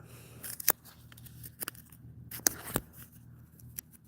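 A small post-it note of paper is pulled from a pocket and handled, giving faint scattered crinkles and sharp rustling ticks at an irregular pace in a quiet setting.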